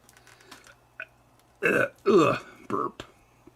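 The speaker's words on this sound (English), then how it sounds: "Burp." Several loud, close burps come one after another, each a deep, rough belch, with fainter mouth noises and small clicks before them.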